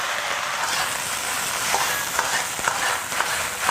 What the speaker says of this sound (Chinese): 来一点95号的菜籽油，5成油温下入莴笋丁和芹菜